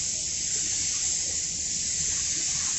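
A spray gun lays down a wet first coat of clear coat lacquer, giving a steady, close, continuous airy hiss with no breaks for the whole stretch.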